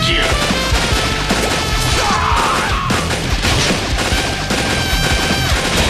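Gunfire and grenade explosions from the mobile game Metal Slug Awakening, loud dense bursts of shots mixed with crashing blasts and game effects, continuous throughout.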